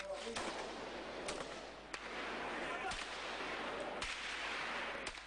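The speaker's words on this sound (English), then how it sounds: "A sniper is shooting at them, and he moves across the road to take him out." Sniper rifle shots in a war zone, several sharp distant cracks spaced a second or so apart over a steady background, with faint voices underneath.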